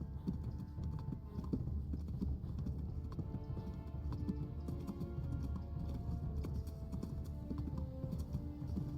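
A horse gallops in the Kingdom Come Deliverance video game, its hooves drumming in a steady, rapid rhythm that stays close and fairly loud throughout.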